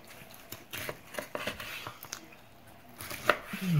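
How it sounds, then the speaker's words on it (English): Knife slicing through smoked BBQ ribs from an offset smoker on a cutting board, a run of soft close chops and cuts followed by a couple of sharper knocks, no talking. "Let's flip them over and cut a few of them."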